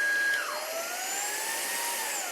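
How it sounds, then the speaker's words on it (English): An Ozeeco cordless vacuum cleaner whirs steadily near the mic, its pitch sweeping downward about half a second in as the motor spins down after being switched off, leaving a continuous, gradually falling hum. "When you turn off the vacuum,"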